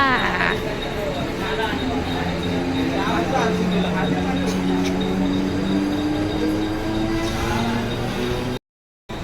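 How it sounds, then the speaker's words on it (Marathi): Trains at Kalwa railway station, a steady loud rumble of rolling carriages with rising and falling tonal whines, with a voice talking over the noise before it cuts out near the end. "अभी स्टेशन पे हैं। अभी आपको दिखाते हैं स्टेशन कलवा"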